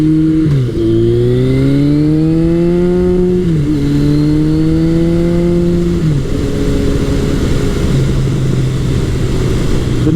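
A 1981 Kawasaki KZ1000 CSR motorcycle engine pulls hard through the gears, loud and close, its tone climbing steadily, dipping at each shift, then rising again before settling into a steady drone.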